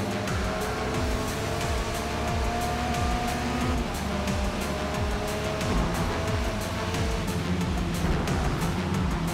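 An MG6 race car in a rainy Forza race gives a loud, continuous engine drone, its pitch sweeping up and down through repeated gear changes and overlapping with other cars close by.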